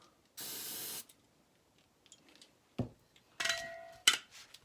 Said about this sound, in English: Use a little bit of brake cleaner.